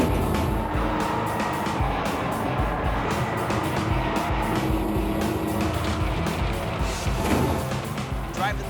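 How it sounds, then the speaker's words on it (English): An M18 Hellcat tank destroyer driven hard around a flagged course, its engine roaring steadily with heavy mechanical rumble and clatter, loud and close for the whole stretch. "I'm going to drive this M18 Hellcat as fast as possible around these flags"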